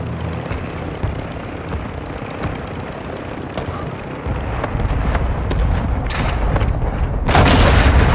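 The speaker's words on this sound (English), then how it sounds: "Hostile mortar strike incoming." Hostile mortar strike explosions in the Modern Warfare 2 video game on the Guijarro map: dense rumbling battle noise that swells into heavy, close booming bursts toward the end.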